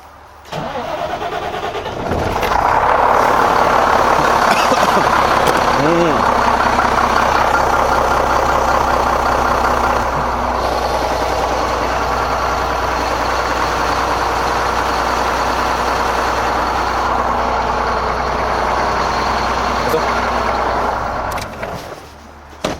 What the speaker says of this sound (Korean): 엔진 소리 한번 들어볼까요?